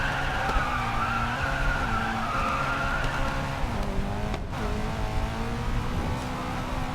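Koenigsegg Agera RS in the Racing Master game drives on steadily, a continuous engine drone with shifting pitch, tyre skid noise and a brief dip midway. Loud and close throughout, with no talk over it.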